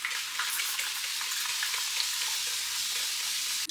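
A spray bottle mists water onto hair in a steady hissing spray that runs almost unbroken for several seconds, close and fairly quiet, with no talk.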